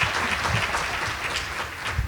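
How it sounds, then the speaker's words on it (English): An audience at a diversity awards celebration clapping for Pastor G, a dense, continuous round of applause from many hands, fairly close and full for a couple of seconds. "You better give this man a hand clap."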